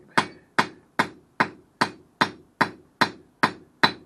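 Ten evenly spaced hammer blows land on 3/8-inch round steel stock being forged into wall hooks, each a sharp ringing metallic strike with a short decay, close and loud, with no talk.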